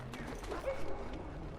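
Sick hounds whimpering in the video game Dragon Age Origins, faint whines and soft yips at a distance beneath low ambient hum, with a brief higher whimper in the middle.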